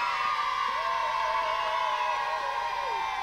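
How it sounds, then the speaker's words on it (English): Children in a crowd at a live show in Cootehill shout and cheer together in a sustained, loud roar of high voices, with a few whoops rising above the steady din. "everybody give yourselves a big, huge cheer"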